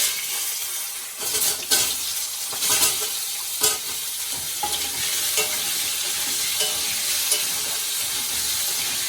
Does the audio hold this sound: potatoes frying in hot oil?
yes